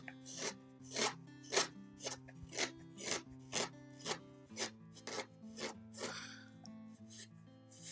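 A hand carving tool scraping across wood in a steady series of about a dozen close, rasping strokes, each a short, even pull, with a faint tonal hum underneath.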